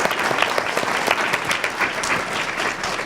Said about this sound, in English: If we could just have another round of applause for the folks on our panel.